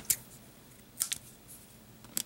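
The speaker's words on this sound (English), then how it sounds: "Got my scissors." A few quick, crisp snips of scissors, spaced apart, close and fairly quiet with no talking.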